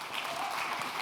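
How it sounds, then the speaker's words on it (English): Festival audience at a circular economy talk claps to welcome a speaker to the stage, a brief dense patter of many hands at moderate level, steady and unbroken. "Applause."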